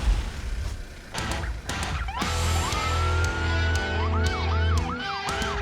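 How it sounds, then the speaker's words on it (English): A brand-new ambulance on a Serbian roadside roars into view, its siren rising and swooping in repeated wails over a steady engine rumble, loud and close. "And then something roars into view."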